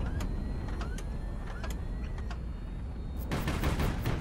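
A 100mm naval gun in HighFleet fires a handful of sharp reports in a quick, regular rhythm over a constant low hum, then a denser burst of loud crackling impacts rounds things off, with no talk.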